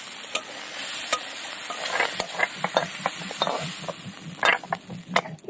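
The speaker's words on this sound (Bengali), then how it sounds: "এই যে এরকম করে একদম চিংড়ি মাছটা ভেজে নিতে হবে।" Spiced prawns fry in a pan, with a soft steady sizzle broken by repeated clinks and scrapes of a spoon stirring them, close and fairly quiet, with no speech.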